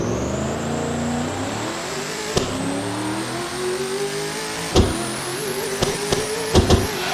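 A 7000 hp Camaro in the Assetto Corsa racing game does a drag pull, its engine revving upward in long climbing sweeps, with sharp pops at each gear shift near the end.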